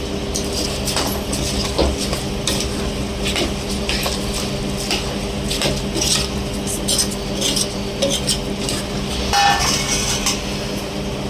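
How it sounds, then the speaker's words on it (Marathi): Rice being stirred into mushroom biryani in a pot makes continuous scraping, clinking and rustling for several seconds, fairly loud and close, without talk. "त्याच्यामध्ये आता जो तांदूळ आहे तो मिक्स केला जातो."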